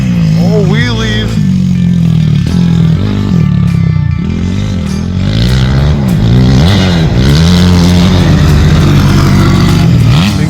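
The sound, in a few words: 2004 Honda 250 dirt bike engine revving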